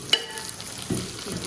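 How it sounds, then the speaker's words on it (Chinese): Radish slices hit hot oil with scallion and ginger in a brief stir-fry, giving a sharp initial clack followed by a soft, steady sizzle and a stirring scrape. "葱姜炒香以后，把萝卜片下进去"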